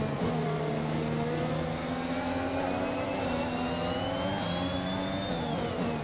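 An F1 race car in the video game F1 2021 accelerates hard, its engine whine climbing steadily through the gears, loud and continuous with no talking.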